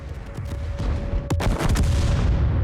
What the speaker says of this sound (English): Our artillery strike's ready, so I'm going to launch it on that guy.